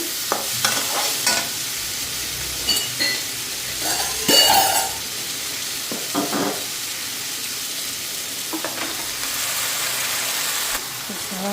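Chow mein noodles are stirred and fried in a pan, giving a steady sizzle broken by scraping stirs and clatters, with a louder burst near the middle, close by and unaccompanied by talk.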